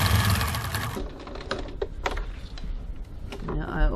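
A sewing machine stitches back over the end of a seam to reinforce it, giving a fast mechanical whirring buzz with short bursts and pauses, close and fairly loud.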